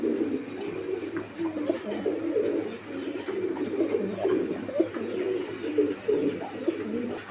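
White Mundian pigeons coo repeatedly nearby, soft low throaty calls overlapping in a continuous murmur.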